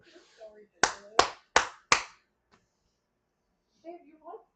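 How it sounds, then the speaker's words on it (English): Four sharp, loud hand claps close to a microphone in quick succession, each crisp and punchy, with a little talking before and after them. "Babe, you're like clapping so loud into the mic."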